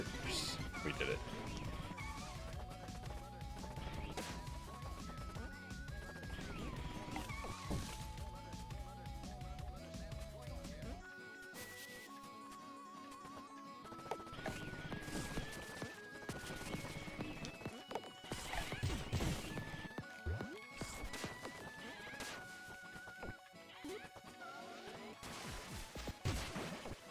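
Rocking-horse race in the Pizza Tower video game, with rhythmic clip-clop galloping and whinnying over busy game music, plus occasional crashes and whacks, loud and continuous throughout.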